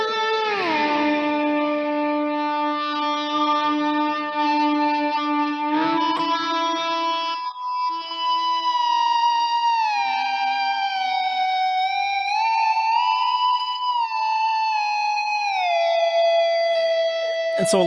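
Sustained electric guitar harmonics played with an Ebow, with gliding pitch and bright overtones, a little wah, swelling smoothly and sliding between harmonics, no attack from picking.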